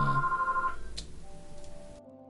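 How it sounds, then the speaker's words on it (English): A telephone rings in the medieval trading game The Guild 2: Renaissance, a short electronic ring tone that sounds once clearly and then fades into quieter game ambience. "Phone's ringing."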